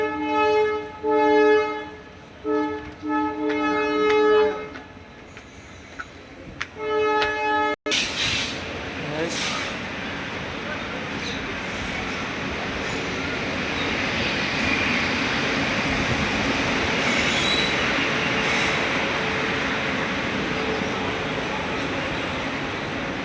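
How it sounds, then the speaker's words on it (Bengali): At a railway junction station a train sounds several long horn blasts, then a sharp clack gives way to a steady, rising rumble of rolling carriages that continues to the end. "দেখি এখন ট্রেনটা আসার অপেক্ষা"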